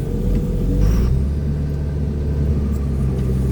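Heavy machine engine rumbling steadily at close range during back blading work, a continuous low drone with slight swells and no voices.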